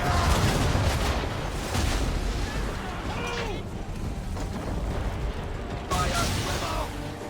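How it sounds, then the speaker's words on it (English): Ship cannons firing a broadside in the Assassin's Creed 3 video game: heavy, loud booming volleys rolling one after another, with shouted commands and crew voices over the din. "Fire broadside!"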